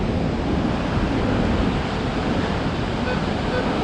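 Steady wind and ocean surf at Ocean Beach in San Diego, California, a loud constant broadband roar of breaking waves mixed with gusty wind buffeting the microphone, with no let-up across the whole stretch.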